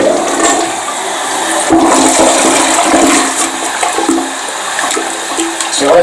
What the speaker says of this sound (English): Let's flush the toilet and see what we get.